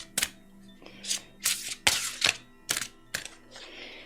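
Tarot cards being shuffled by hand, a series of crisp riffling slaps and flicks in an uneven rhythm, close and fairly quiet in a still room with no talking.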